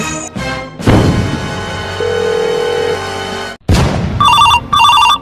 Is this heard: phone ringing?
yes